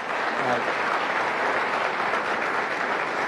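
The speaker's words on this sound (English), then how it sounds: "A round of applause for these 4 finance ministers" A studio audience at a televised budget debate applauds four finance ministers with steady, dense clapping, loud and sustained, with a faint voice underneath.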